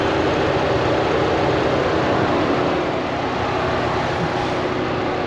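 A 2022 Ford Bronco Big Bend engine runs steadily, a continuous close-up rumble with a low hum and broadband noise, no speech over it.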